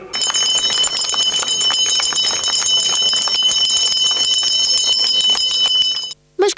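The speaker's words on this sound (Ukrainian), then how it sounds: "святковий дзвоник пролунав на території Харківської виправної колонії" Festive bell rung inside a Kharkiv correctional colony, a steady, loud run of bright metallic strikes with sustained ringing overtones lasting about six seconds before stopping abruptly, with a brief sound after.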